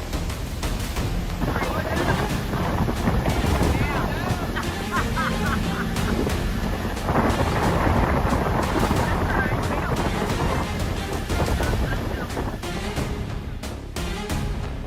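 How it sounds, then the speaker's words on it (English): Hurricane winds and heavy rain batter Florida Bay as Hurricane Debbie approaches, a steady loud roar of wind and rain that buffets the microphone throughout. "Florida Bay was battered by strong winds and heavy rain as Hurricane Debbie approached."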